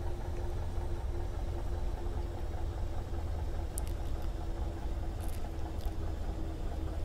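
Steady low engine drone from a Piper PA-28-180 Cherokee in a flight simulator game, a constant rumble with a faint tonal hum and no voices.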